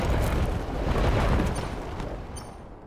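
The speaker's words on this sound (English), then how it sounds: "More lightning." Lightning strike in the turn-based strategy game Into the Breach: a loud, broad rumbling crash that swells through the first second and a half, then slowly decays, heard alone without talk.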